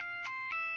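Phone ringtone in a Marathi TV serial household scene, a steady electronic melody of sustained tones with a couple of brighter pulses, heard alone and fairly faint, with no talk over it.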